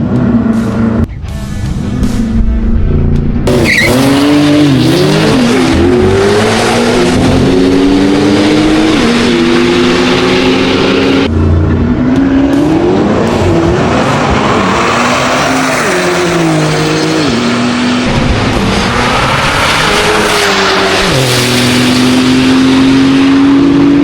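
A Corvette C8 ZR1 races a supercar, with loud engines revving and shifting through gears continuously at close range, the pitch climbing and dropping repeatedly across the run.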